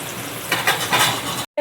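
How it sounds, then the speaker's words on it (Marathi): Rava-coated surmai (kingfish) frying in a pan over a low flame, giving a steady close sizzle with a few louder pops, ending abruptly in a brief silent gap. "नंतर मग स्लो गॅसवरती मच्छी फ्राय करायची"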